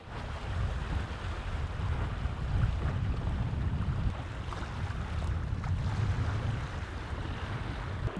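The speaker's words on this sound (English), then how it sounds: "the wind goes really up and down" Steady wind rushes past while under sail on a sailboat, a low, broadband roar with mild gusting swells and faint water wash, fairly quiet and continuous throughout with no voices.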